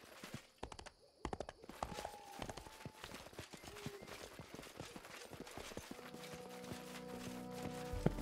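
A horse in the fantasy game Pathfinder: Kingmaker, set on a sunny hillock in a marsh, clops its hooves in a busy, irregular patter amid game ambience and occasional tones, with a faint snort or whinny.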